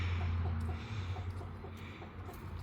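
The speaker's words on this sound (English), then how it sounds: "Chickens are loving the watermelon." Backyard chickens, a flock including Cochins, softly cluck and murmur while pecking at watermelon, faint against a steady low hum.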